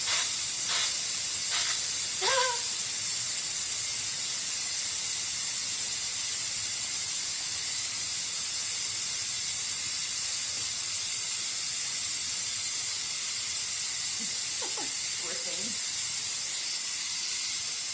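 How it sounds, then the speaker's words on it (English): Steam vents from a Pampered Chef Quick Cooker electric pressure cooker making Thai coconut soup, a loud, constant high hiss lasting the whole stretch, with a few faint clinks near the start and again near the end. "we're just going to hold this over here so Steam can hit the towel instead"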